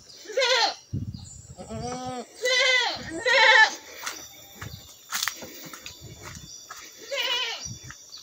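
Goats bleat repeatedly near a goat pen in a steep valley village, several loud, close wavering calls with short pauses between, with faint footsteps and rustling.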